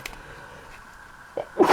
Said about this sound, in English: Gotta love it when you sneeze.